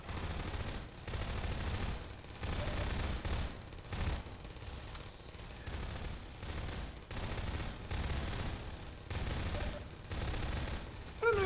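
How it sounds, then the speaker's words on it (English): SMG fire in Half-Life 2 Episode 2, loud repeated bursts of rapid shots in a stop-start rhythm, each volley lasting about a second with short gaps between, alone without talk. "I'll use the SMG for this first one."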